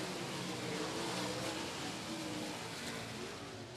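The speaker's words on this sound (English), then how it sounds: "We are back, green flag racing." Race cars at Golden Triangle Raceway Park, a distant, steady engine drone spread across the track, fairly faint and continuous.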